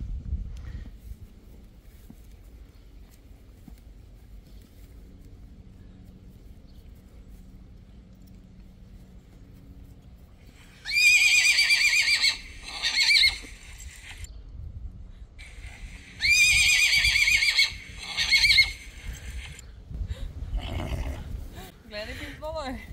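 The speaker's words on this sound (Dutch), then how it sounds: "De kenners weten welke hinnik dit is." A Friesian horse lets out two long, loud whinnies close by after a quiet stretch, with a low outdoor rumble and people talking softly around it.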